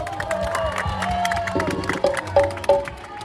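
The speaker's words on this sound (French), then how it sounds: "Applaudissez pour ça" A concert crowd cheers and claps in a lively, moderately loud burst, with high whistles and shouts rising above the noisy applause.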